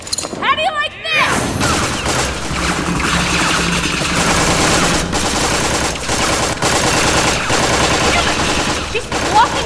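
Loud, sustained automatic gunfire rattles almost continuously in the Tales From The Borderlands video game, with dense overlapping bursts and impacts after a brief opening of voices.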